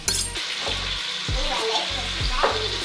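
Lamb sears in a pot for Uzbek plov, a loud close sizzle and hiss with repeated low scraping strokes of stirring and a clink of a utensil, roughly in a regular rhythm.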